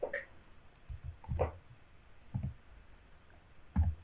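Keys on a computer keyboard are tapped to enter a number, giving a few sparse, sharp clicks spaced irregularly, close and fairly quiet.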